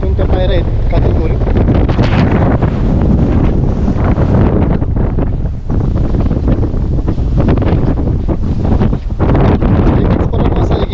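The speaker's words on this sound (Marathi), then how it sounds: "वारा आता एवढ्या जास्त प्रमाणात आहे." Strong wind buffets the microphone on the Hanumantgad–Nimgiri fort hills, a loud continuous roaring rumble with gusty surges throughout and no clear talk.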